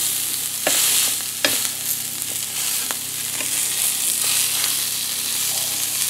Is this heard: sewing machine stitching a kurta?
no